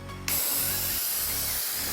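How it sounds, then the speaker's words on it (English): A short hiss of glue accelerator spray on a foam FPV race wing bursts in after a brief pause and runs steadily to the end, close and fairly loud. "I want you to spray right down the center."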